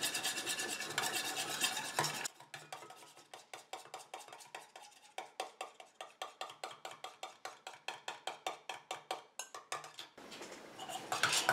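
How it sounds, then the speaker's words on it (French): An aqueous phase is whisked little by little into a cream emulsion in a bowl. Fast, regular scraping strokes tick rhythmically at close range, bracketed by a brief louder rubbing at the start and end. "je prends ma phase aqueuse que je viens mélanger petit à petit"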